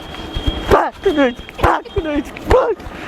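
A dog lets out a run of short yips and whimpering whines in close, repeated bursts about every half second, fairly loud within a comedy sketch.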